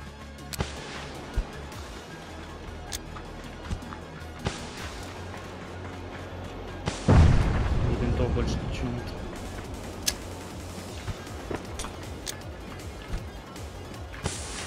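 Sporadic gunshots from the battle royale game PUBG crack at a distance as sharp isolated snaps scattered across the stretch, with one heavier, louder burst midway, under ongoing conversational voices.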